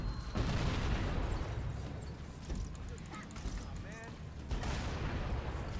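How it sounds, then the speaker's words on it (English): Scorpion tank in Halo: Combat Evolved on PC, heavy rumbling engine and booming cannon fire with a burst of rapid gunfire and chattering effects midway, loud and continuous. "here's the first time you get to experience the uh, the beauty that is the Scorpion tank"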